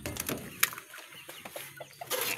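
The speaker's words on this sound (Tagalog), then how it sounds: "Kumakain na po yung mga manok ko." Chickens being fed out in light drizzle, clucking in a scatter of short, close calls with a few sharper squawks, and no people talking.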